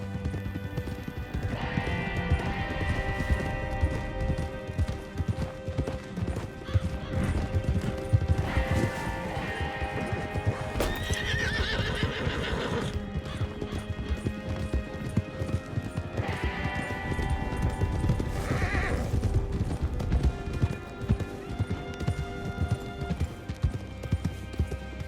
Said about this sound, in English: Come on. Get these horses.